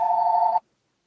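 A small phone rings with a single electronic tone burst, clear and moderately loud, that cuts off abruptly after about half a second and leaves silence.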